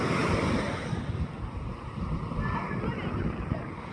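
Calm, gentle sea waves washing onto Nha Trang beach on a breezy summer afternoon, a continuous near surf wash with some wind rumble on the microphone.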